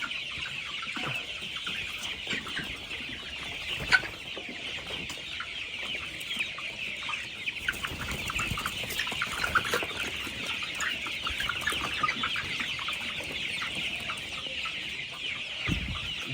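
A flock of Paragon colour-bird broiler chicks, raised for meat, keeps up a faint, continuous chorus of high peeps and soft clucks, with occasional louder individual calls.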